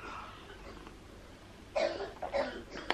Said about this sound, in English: she's coughing her head off